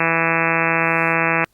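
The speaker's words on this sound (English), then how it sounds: "If we play all of the harmonics together, it sounds like this." A synthesized tone sounding all of its harmonics together holds steady and buzzy for about one and a half seconds, then cuts off abruptly.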